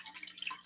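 A soft cloth being wet in warm filtered water, heard as close, quiet trickling with light drips.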